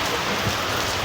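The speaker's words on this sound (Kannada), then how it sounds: "ಫುಲ್ಲು ಮಳೆ, ಆಲ್ರೆಡಿ ಮಳೆಯಲ್ಲಿ ತೇಲಾಡ್ತಾ ಇದ್ದೀವಿ ನೋಡಿ" Heavy rain pours steadily outdoors near a railway station while travellers wait, a dense, even hiss of drops hitting surfaces that stays loud and unbroken throughout, with no voices.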